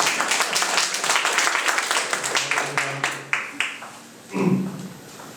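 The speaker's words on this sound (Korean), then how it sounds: "박수 한번 쳐주세요" Scattered hand claps from an audience at a political party lecture, sparse and uneven, thinning out to a few isolated claps before a brief murmur of voices.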